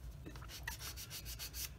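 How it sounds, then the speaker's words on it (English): Sanding stick rubbing back and forth on a plastic part from a Tamiya 1/35 M2A2 Bradley model kit, giving quiet, rhythmic close-up scratchy strokes with no talking. "That means the sandpaper or the sanding stick has not reached a flush point yet."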